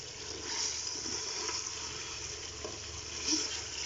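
Chicken and masala fry in a pan with a steady, soft sizzle and crackle, close and continuous, with a few faint stirring clinks.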